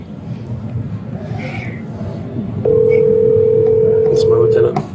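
A telephone call plays over a speakerphone during a police bodycam stop, with a steady dial tone holding for about two seconds over a noisy outdoor background.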